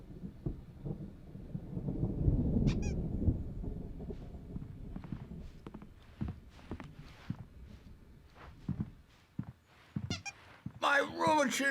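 Low rumbling thunder from an approaching storm in the video game Alan Wake rolls and swells in the background, peaking early, with footsteps and game sounds over it and a brief burst of noise near the end.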